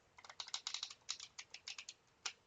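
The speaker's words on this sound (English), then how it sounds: "I like to riffle shuffle" A quick, close flurry of light papery clicks as Lenormand cards are riffle shuffled, with a separate short burst at the end, quiet and without talking.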